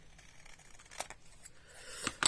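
Paper being snipped with scissors during a digital-paper mini album craft project, a couple of short crisp cuts near the end, close and fairly quiet over a faint room background.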